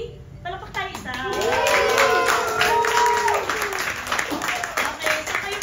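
An audience at a live music event breaks into rhythmic clapping that swells and then continues steadily beneath a voice speaking over it.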